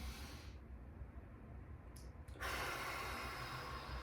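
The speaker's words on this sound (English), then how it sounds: "I'm going to raise them up as I breathe in." A single deep breath drawn in slowly through the nose during a calming stress-relief exercise, a close, soft airy hiss that rises and then opens into a fuller rush of breath.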